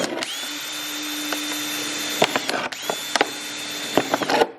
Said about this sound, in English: I found the drill. I'm just going to go rapid fire and, you know, try to drill some holes